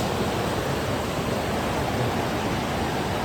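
The Alas River in Gunung Leuser runs fast, giving a steady, dense rushing roar of flowing water at sunset, continuous and fairly loud with no talk over it.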